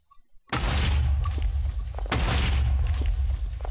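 An explosion from the More Explosives mod in Minecraft goes off as a sudden loud boom, followed by a second blast and a long rumbling roar that fills the space with no talking.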